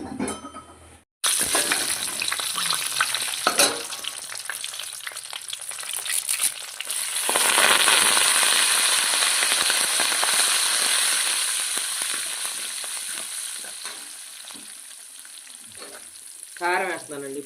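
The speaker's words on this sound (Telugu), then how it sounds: "తాలింపు గింజలు, జీలకర్ర వేస్తున్నానండి." Mustard seeds and cumin crackle and sizzle loudly in hot oil after fried bitter gourd pieces are lifted out, a dense steady frying hiss with sharp popping spatters and occasional clinks of a utensil, no talking.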